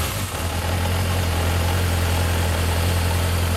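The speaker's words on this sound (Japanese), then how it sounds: "エンジン聞かせて。" A 1981 Yamaha XJ400 motorcycle engine in full original condition idles steadily, a continuous low hum with a slight rough pulse, loud and close throughout with no talk.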